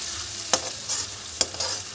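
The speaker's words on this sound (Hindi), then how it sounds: "और इसको अच्छी तरह से हम भून लेंगे, पहले थोड़ा सा इसमें पानी डालेंगे" Masala fries with a little water while being stirred: a steady sizzle broken by two sharp spatula scrapes against the pan.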